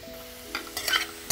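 Onions frying in a pan, a soft sizzle with a few brief stirring scrapes and clatters of a utensil, close by and fairly quiet, no talk.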